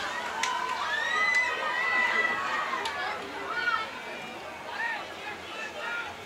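Mitchell cheerleaders cheering on the Marauders at a high school football game, faint distant crowd noise and voices heard under close play-by-play commentary.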